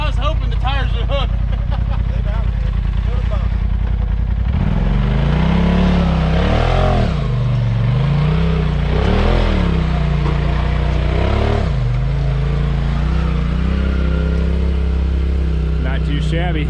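RZR side-by-side climbing a hill at Hollerwood Park, Kentucky, its engine idling and then surging into loud revs that rise and fall in waves several times, close by, with people talking over it.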